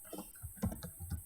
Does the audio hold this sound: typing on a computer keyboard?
yes